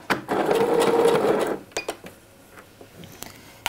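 A sewing machine runs a short burst of backtack stitches on a dress seam for about a second and a half, a fast steady whir up close, then stops and leaves a few soft clicks and handling sounds.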